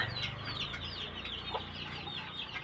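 A hen clucks repeatedly at close range, soft rapid calls over a low farmyard background hum.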